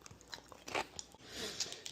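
Tomato sauce flavoured potato chips crunched close up, with a few sharp bites followed by steady crisp chewing, quiet and with no talk.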